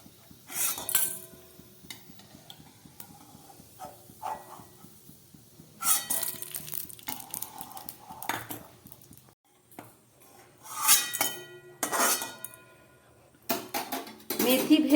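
Metal utensils clink and scrape against a pan of oil while fried fenugreek seeds are lifted out. The sounds come as short, scattered bursts between quiet gaps, fairly close.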